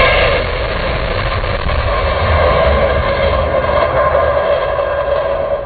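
Launch abort engines of a crew spacecraft fire during a pad escape test, producing a loud, continuous roar that holds steady for the whole stretch with no voices.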